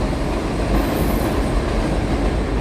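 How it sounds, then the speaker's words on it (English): A train rolls past in New York City, a loud continuous rumble of wheels on rails with faint squealing, close and steady throughout. "Tons of trains pass by here."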